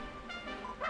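A dog in Dragon Quest Builders 2 gives a short, bright bark that swells at the very end, a single brief woof over a steady bed of game music.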